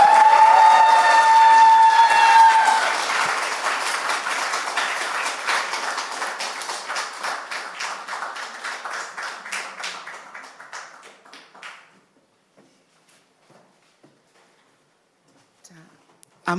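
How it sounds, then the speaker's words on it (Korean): A congregation applauding during a Korean church New Year's Eve worship service, with loud sustained clapping and a brief whistle that gradually thins and fades to near silence over about twelve seconds. "많은 박수 부탁드립니다"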